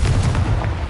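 A Confringo blasting spell erupts in Hogwarts Legacy, one loud, rumbling, booming explosion that fills the whole short moment, close and heavy.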